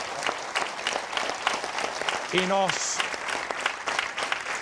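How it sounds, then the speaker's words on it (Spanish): Audience applauding at a Canarian parranda folk gathering, dense steady clapping throughout, with a short voice and a whistle-like tone briefly cutting through midway. "vamos a darte un aplauso para que no pierdas la sonrisa"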